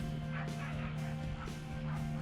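A dog barks in short repeated bursts, fairly faint and distant, over a steady low hum outdoors at a site where a new shop building is being put up.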